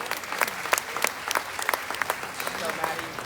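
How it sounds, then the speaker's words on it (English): A livestock show crowd at the 2021 Arizona National Grand Drive applauds the division winners. Dense, lively clapping runs steadily throughout with small bursts, moderately loud and at mid distance. "Let's give them a big round of applause."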